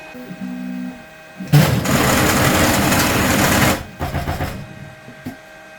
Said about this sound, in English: I gotta emergency shut down the printer because it keeps hitting the bed like that